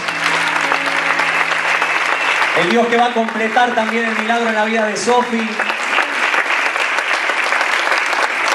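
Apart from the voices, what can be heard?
church congregation giving loud applause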